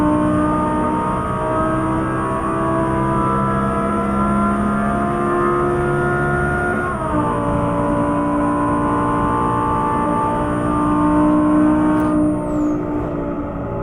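Audi R8 V10 Spyder accelerating at full throttle on a motorway in Euro Truck Simulator 2, a loud sustained engine roar climbing in pitch with one gear shift midway, alongside a thin high whine.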